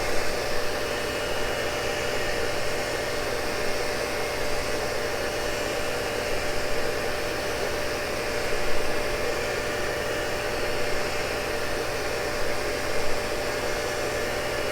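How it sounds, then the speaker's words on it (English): A Cincinnati tool and cutter grinder grinds a Morse taper, its work head turning about 250 RPM against the wheel, giving a loud, steady hiss with a constant tonal hum throughout and no voices. "I have the work head rotating against the direction of the grinding wheel"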